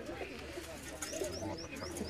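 Breeder pigeons coo on a rooftop, soft low cooing under nearby talking voices.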